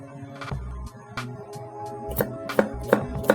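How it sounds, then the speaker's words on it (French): A knife finely minces a French shallot on a cutting board, giving close, irregular taps that build into a few sharper, louder chops toward the end. "Pour la réalisation de l'échalote française, on a juste besoin de la ciseler, simplement, finement"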